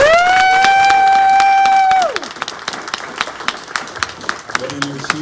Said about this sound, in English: let's give a round of applause for our artists and their models